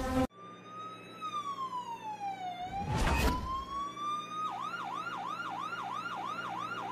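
An ambulance siren wails loud and close, sweeping slowly down and back up before switching to a fast, repeating yelp, with a brief rumbling whoosh partway through.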